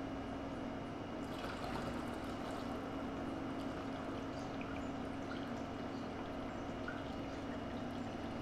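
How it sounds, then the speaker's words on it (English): Water is poured into a capped bottle already holding povidone iodine, a faint, steady trickle lasting several seconds against quiet background noise, with no talking. "add your water."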